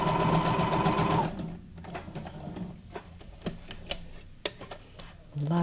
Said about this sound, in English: A lot of stitching. We're doing lots of stitching.